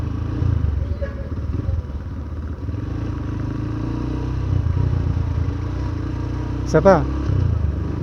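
A vehicle engine blipped for rev-matched downshifts, with a steady idle-to-mid engine hum beneath conversation and a sharp rising-then-falling rev flare near the end, all fairly close.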